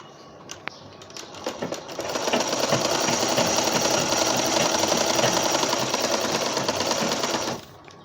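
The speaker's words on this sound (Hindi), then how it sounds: "अब उसके बाद हम इस पे सिलाई लगाएंगे, इसकी गोलाई पर।" A sewing machine stitches around the curve of a baby cap, running in a steady, loud, fast mechanical chatter for several seconds before stopping.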